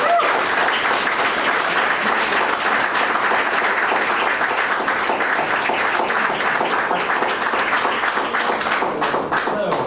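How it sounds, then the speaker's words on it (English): Audience at a convention panel applauding steadily, a dense and even round of clapping that holds for the whole stretch with some cheering mixed in. "Big round of applause."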